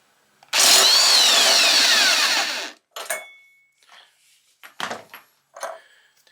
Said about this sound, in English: So what we're going to do is I get an impact wrench.